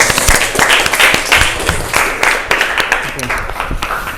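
Students in a classroom clap loosely after a group presentation, the uneven claps mixed with chatter and voices close by.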